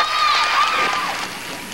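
Spectators at the 1987 World Junior Men's Curling championship raise a loud burst of cheering and crowd noise that stays steady, then fades slightly toward the end, with scattered shouts within it.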